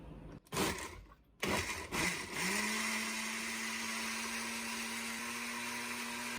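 A kitchen blender pulses jalapeno horseradish sauce: a couple of short bursts first, then a steady loud whirring motor that runs on alone.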